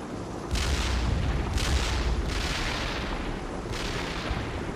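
Artillery fire mission in the video game World in Conflict: four heavy shell blasts land in a slow, evenly spaced sequence, each a loud booming crack with a rumbling tail that fades beneath a constant battlefield drone.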